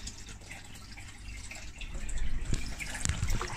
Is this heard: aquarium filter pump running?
yes